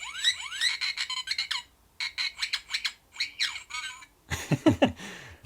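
A Kenner R2-D2 toy from the Power of the Force line chirps after its button is pressed, giving quick bursts of bright electronic beeps and warbles in several separate groups, ending in a lower burbling chirp. The toy is close and clear.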